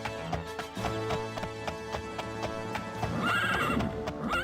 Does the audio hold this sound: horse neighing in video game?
yes